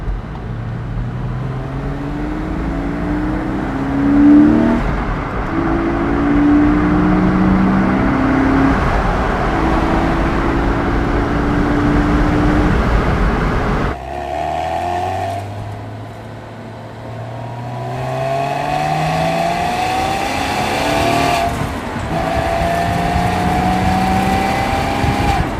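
A Porsche 986 Boxster S, mid-engine with manual transmission, pulls away with a strong intake note, engine rising through a gear, dipping at a shift and climbing again, loud and close from inside the cabin.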